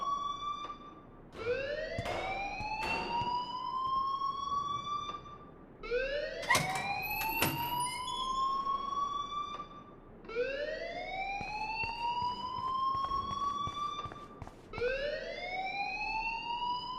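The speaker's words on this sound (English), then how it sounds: "please turn off that alarm since that's your job" A wailing electronic alarm in the game Life is Strange, rising in repeated sweeps, about four long cycles with buzzy tones, loud and continuous.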